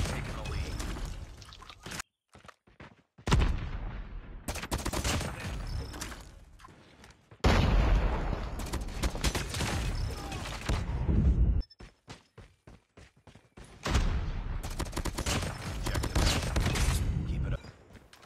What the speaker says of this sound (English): we have the M16, a very high damage gun, only taking a couple of bullets to take out an enemy.